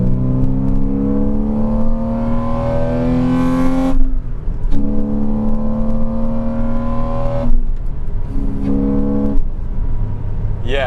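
A 2006 Porsche 987 Cayman S revs hard as it accelerates, its engine note climbing steadily through the gears, with two sharp breaks between pulls around the four- and seven-second marks, loud and close.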